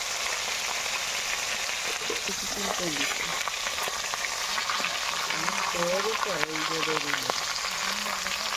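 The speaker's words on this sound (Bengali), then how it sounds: "মাছগুলো ভাজা হয়ে গেছে এখন তুলে নেব" Bata fish fry in oil in a pan with a loud, continuous crackling sizzle throughout, while a voice speaks over it in the second half.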